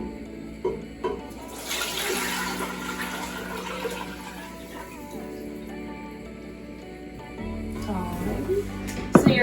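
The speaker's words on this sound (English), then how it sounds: "I'm going to rinse out my pot first." A cooking pot being rinsed under running water in a kitchen, a steady close splash and gurgle that fades, then a brief louder rush of water at the end.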